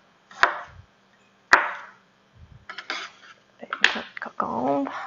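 A knife chopping English cucumber for mango salsa, a few sharp, separate cuts spaced about a second apart, close by, with light clatter in between.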